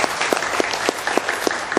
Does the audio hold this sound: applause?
yes